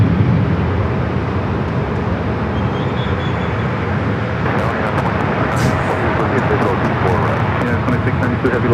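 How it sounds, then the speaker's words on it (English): A KLM airliner arrives at Los Angeles airport, its jet engines producing a loud, continuous broadband roar that holds steady throughout. "KLM up next for arrival"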